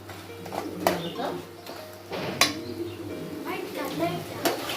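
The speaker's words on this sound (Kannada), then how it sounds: "ಈಗ ನಾವು ಫ್ರೈ ಮಾಡ್ಕೊಂಡಿರೋ ಪನ್ನೀರ್ನ ಇದಕ್ಕೆ ಸೇರಿಸೋಣ" Fried paneer being added to a simmering sauce in a pan and stirred with a spoon, with several clacks and scrapes of utensil against metal under light talk.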